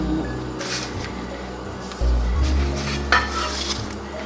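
Unleavened communion bread dough cooks on an ungreased hot griddle, giving a soft sizzle with scraping and clattering handling noises and a few low thumps.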